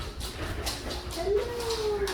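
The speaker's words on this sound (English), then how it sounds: "there's a dog in the kitchen." A dog whimpering in a home kitchen gives a thin, high, drawn-out whine in the second half, fairly faint beneath steady room noise and murmuring voices.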